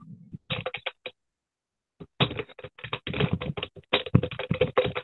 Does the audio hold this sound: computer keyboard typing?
yes